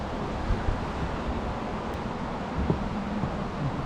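A stream along the Appalachian Trail between Swatara and Rausch Gap flows in a steady, broadband rush, close by and continuous, with no voices.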